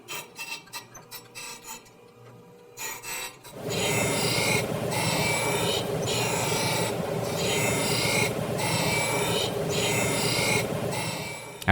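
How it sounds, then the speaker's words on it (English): Surface grinder grinding a Damascus steel billet, a few scattered scrapes giving way to a loud, continuous rasping grind with a regular pulsing rhythm as the piece passes back and forth under the wheel. "I grind off that excess material to reveal the pattern in the middle of the billet with the surface grinder"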